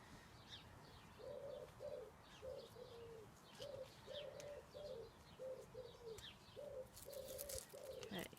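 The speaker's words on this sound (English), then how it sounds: "Quite enjoying my wood pigeon accompaniment here." A wood pigeon coos repeatedly in a steady, rhythmic phrase, faint and distant against quiet outdoor background noise, with scattered small chirps.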